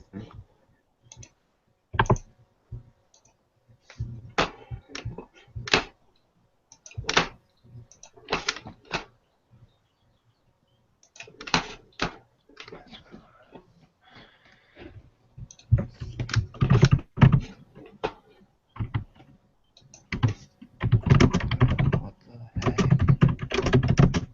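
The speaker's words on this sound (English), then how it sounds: "Damn, your keyboard is loud." Loud computer keyboard typing, close and sharp, with rapid clattering keystroke bursts broken by short pauses and growing denser toward the end.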